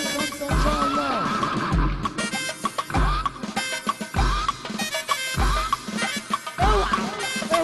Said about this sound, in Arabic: الحصان واقف قدامي